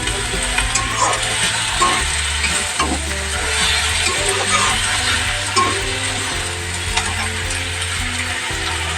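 Kulekhara leafy greens frying in a pan, a continuous dense sizzle with frequent rhythmic scraping and clacking of a spatula stirring the greens, loud and close throughout.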